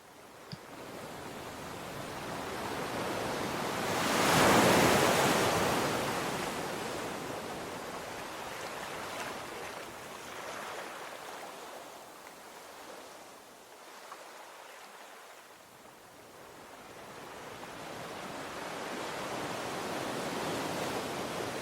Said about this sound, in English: hear the sounds of waves gently rolling onto the shore